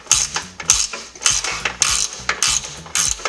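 Wrench work loosening a bolt on a Porsche 996 Turbo control arm, a close series of sharp metallic clicks and ratcheting clanks in quick irregular bursts, with no voices.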